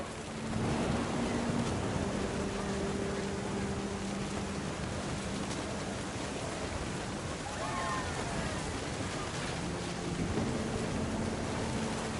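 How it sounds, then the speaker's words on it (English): Thunder and rain from the video game What Remains of Edith Finch: a continuous loud wash of rain with deep rumbling thunder rolling underneath, while a voice narrates over the storm. "The thunder sounded much too close and full of angry power."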